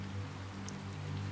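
Steady rain falls in an even hiss of drops on surfaces, continuous and moderately quiet with a low hum beneath it.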